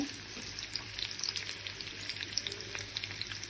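Spices and chilies fry in oil for a tempering, sizzling and crackling steadily in a pan up close, with tiny popping bursts scattered throughout and no talking.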